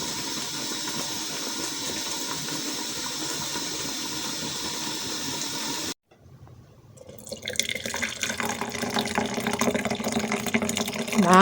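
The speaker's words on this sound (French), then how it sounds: "On filtre notre tisane." Herbal ginger tea poured and strained through a filter, a steady trickling stream, then a brief cut followed by a louder splashing pour that builds toward the end, no talking.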